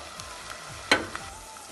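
Curry leaves frying in a pan of oil for Kerala sardine curry, a steady low sizzle with one sharp burst of crackling spatter near the middle and a smaller pop after it.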